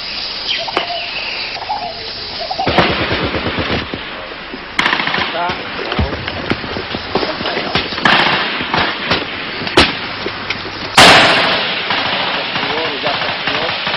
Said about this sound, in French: Trois roquettes sont tirées à la fois contre la tête de la colonne.